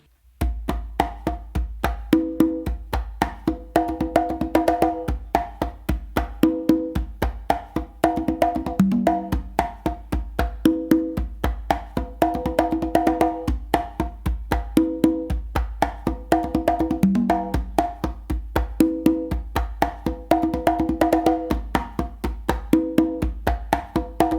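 Hand drums play a steady, repeating pattern of open and muted hits, the rhythm looping continuously at a moderate tempo, close and loud with no voices.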